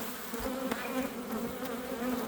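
Agitated honeybees at an opened hive drone in a dense, steady buzz close by, with individual bees zipping past now and then.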